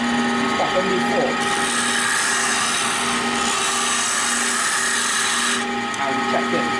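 A wood lathe spins a handle blank while a chisel cuts it, giving a continuous scraping, rasping wood cut over the machine's steady hum, with brief quieter moments at the start and end.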